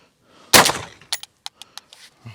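A single sharp, loud gunshot from an Akdash gun cracks out, followed by several short, fading echoes or clicks in quick succession.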